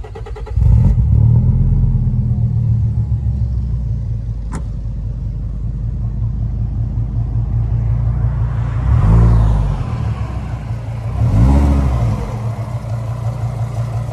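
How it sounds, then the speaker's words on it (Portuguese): A Fiat Marea Weekend five-cylinder car engine idles steadily and smoothly up close, with a couple of brief revs swelling the sound before it settles back to a low hum. "Realmente está um reloginho esse motor"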